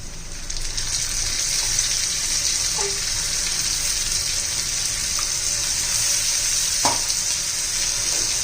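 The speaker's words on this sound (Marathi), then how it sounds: "या कांद्याबरोबर चांगली स्वच्छपणा झाल्यापर्यंत आपल्याला परतून घ्यायची आहे" Tomato paste fries with browned onions in a pan, giving a loud, steady close sizzle with a couple of brief clinks of a spoon stirring; no one speaks.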